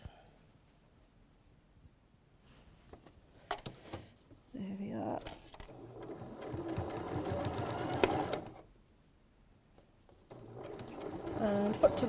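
A sewing machine stitches fabric layers for a highland cow and unicorn cushion, running in a few bursts of whirring with pauses between them, the longest near the end, while a person talks.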